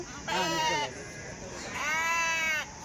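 Sheep bleat twice at the Kadiri livestock market held before Bakrid, two drawn-out wavering calls close by, separated by a short pause over a low murmur of background noise.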